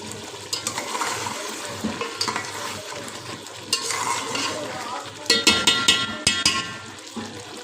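A spoon stirs chicken white karahi, restaurant style, in a sizzling wok, giving repeated loud scraping and clinking strokes over a constant frying hiss, with the strokes growing busier near the end.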